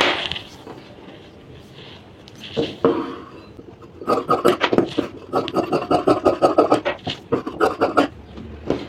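Scissors snipping through blouse fabric up close, with a soft rustle of cloth being handled first, then a run of rapid crisp cuts.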